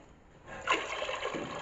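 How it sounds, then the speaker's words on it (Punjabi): Water is poured from a mug into a cooking pot over a jeera tadka for rice, a single short splashing pour that starts abruptly and continues steadily at close range. "ਮੈਂ ਪਾਉਂਦੀ ਹਾਂ ਪਾਣੀ"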